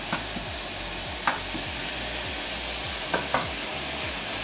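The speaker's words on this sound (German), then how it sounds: "dann geben wir jetzt das Hackfleisch in die Pfanne" Steady sizzling of minced meat in a frying pan for a pasta bake, with occasional scraping and stirring clicks from a utensil, close up and continuous.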